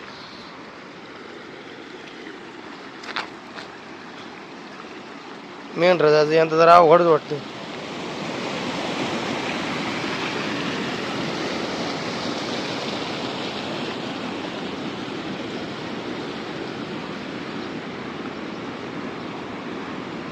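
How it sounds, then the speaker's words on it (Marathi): A full, swollen river rushes past in a steady broad roar, heard close by; someone speaks briefly before the water sound rises and carries on alone. "तर अगदी फुल तुटुंब भरून नदी वाहते ही पातळ गंगा"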